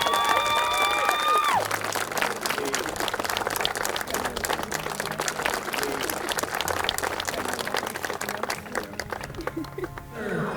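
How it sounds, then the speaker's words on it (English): Wedding guests applaud the newlyweds just after the kiss, a dense, steady wash of clapping with some cheering, loud and close throughout, thinning slightly near the end, with music and chatter underneath. "Please applaud."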